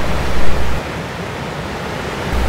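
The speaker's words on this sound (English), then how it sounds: "Cascade Falls had an ideal balance of water flowing through an icy channel" Cascade Falls at Tettegouche State Park in early-winter Minnesota pours through an icy channel, a loud, broad, steady rush of falling water heard up close with no voices.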